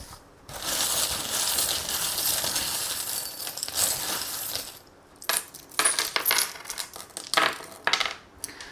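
Small metal oracle charms cast onto a surface for a French card reading, giving several bright clinking and jingling spills, a sustained rattle for the first few seconds followed by separate sharp tinkling bursts, close and alone.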